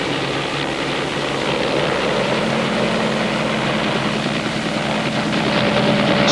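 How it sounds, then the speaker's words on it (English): Helicopter flying over the 3,000-acre Los Angeles International Airport in 1963, a continuous loud, steady engine and rotor drone that holds evenly throughout with no talk. "when you take a helicopter ride"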